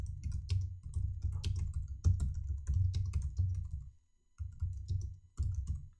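Rapid typing on a computer keyboard while entering an expense description, a steady stream of close clicky keystrokes with a brief pause near the end before the tapping resumes.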